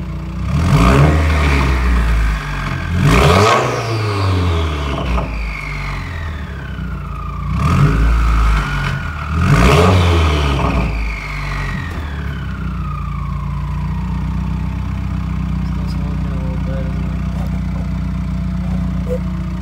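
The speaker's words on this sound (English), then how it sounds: "so it is misting, but I'll rev it for you." A warmed-up 2015 Subaru WRX fitted with a Perrin oil sump restrictor revs three times on a misty, cold day. Each rev rises and falls loudly, and the engine then settles into a steady idle.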